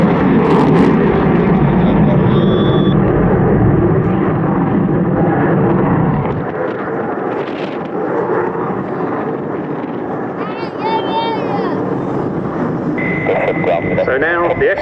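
F-16 fighter jet flying at the RAF Cosford airshow, a loud, continuous roaring rumble carried over the whole stretch with wind buffeting, steady throughout, while people talk faintly nearby.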